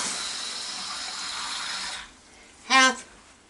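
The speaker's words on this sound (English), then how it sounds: "that's a 1/2 can of water." Water poured from a soup can into a pan: a steady splashing pour for about two seconds that cuts off, followed by a brief louder glugging splash near the end.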